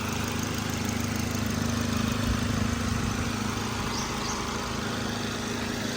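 Swift Dzire VXI engine idling under an open bonnet, a steady continuous mid-low hum with a faint high whine, close and even throughout with no talk.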